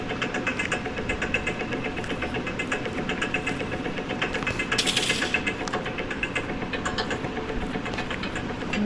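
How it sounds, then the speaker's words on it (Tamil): Steady traffic noise plays in the Granny video game, a continuous engine-like rumble of passing vehicles with a brief brighter swell in the middle, constant in level and without voices. "ட்ராபிக் சத்தம்"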